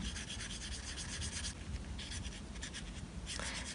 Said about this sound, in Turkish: İstersek dediğim gibi keçeli kalemle kürdan kısmını da boyayabilirsiniz.